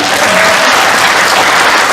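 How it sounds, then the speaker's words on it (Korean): Seminar attendees at a business company presentation clap loudly and continuously, a dense, close wash of applause filling the room. "자신에 대해서 박수 한번 쳐드릴게요"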